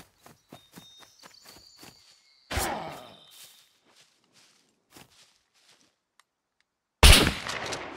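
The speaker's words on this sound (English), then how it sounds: "I could try to stick my gun through the wall and shoot." Two sharp, loud gunshots fired through a base wall in the video game SCUM, one after a run of light footsteps and the second, harsher one near the end, with quiet gaps between.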